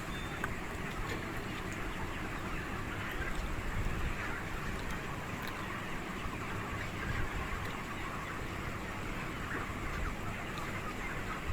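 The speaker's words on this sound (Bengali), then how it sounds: "দেখুন মুরগিগুলো কত সুন্দর" Broiler chickens on a poultry farm make a dense, continuous murmur of clucking and chattering, steady and moderately loud across the whole stretch with no single bird standing out.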